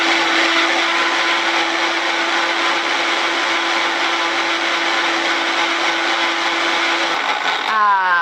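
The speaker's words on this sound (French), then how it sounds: "je vais continuer à mixer" A blender whirs loudly and steadily for about seven seconds, puréeing healthy dessert ingredients (gluten-free, lactose-free, no white sugar) with a little added water, then winds down and stops near the end.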